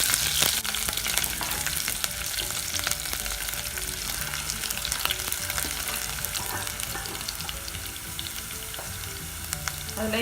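Shallots, curry leaves and dried red chillies crackle and sizzle in hot oil for a South Indian tempering, a steady close frying hiss with sharp spitting pops throughout and no voices.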